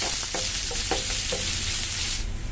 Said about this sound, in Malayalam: അരിഞ്ഞു വെച്ചേക്കുന്ന സവാള ചേർത്ത് കൊടുക്കാം സവാള നന്നായിട്ട് ഇളക്കി